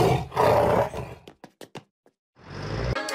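A cartoon mountain lion gives a loud roar, followed by a few short growling bursts and a pause before another rumbling roar begins.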